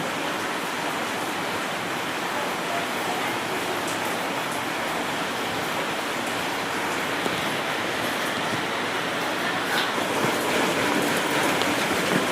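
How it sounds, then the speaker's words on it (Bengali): Heavy rain pours steadily without a break, a dense hissing roar of water on surfaces. "বৃষ্টি হচ্ছে লাগাতার"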